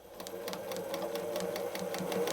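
A sewing machine stitches fabric while free-motion quilting a pot holder, a fast, steady, close mechanical chatter of the needle that speeds up slightly as it goes.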